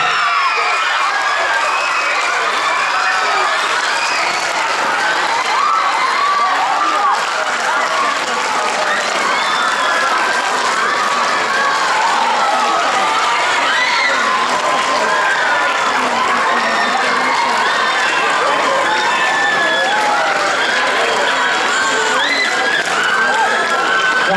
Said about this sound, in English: Let's continue this applause, ladies and gentlemen, for Devi Balika Vidyalaya.